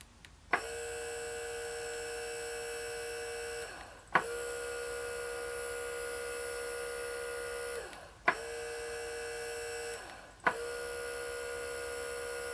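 A small DC motor driven through a MOSFET H-bridge from an Arduino whines steadily at full speed with a bright tonal hum, cut by brief clicks and stops roughly every four seconds before spinning up again.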